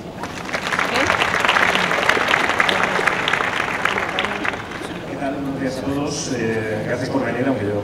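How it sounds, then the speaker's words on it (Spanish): Audience applause at a photography workshop during a Fitur tourism fair session, a dense sustained burst of clapping that swells for several seconds then fades as a voice begins speaking over the last part. "Un aplauso."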